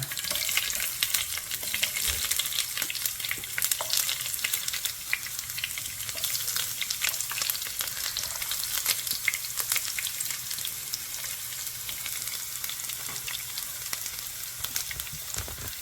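Steady, close sizzling of shallots frying in hot oil, a dense crackling hiss that continues without pause and with no one speaking.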